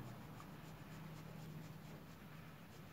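Marker or pen dragging along a board while drawing a blue line for a refraction diagram, a steady, continuous scratchy rub lasting a few seconds, fairly faint over a low room hum, with no talking.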